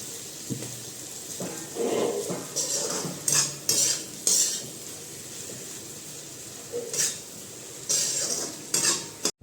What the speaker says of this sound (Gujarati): કસ્તુરી મેથી નાખશું ને એકવાર મિક્સ કરી દઈશું આપણે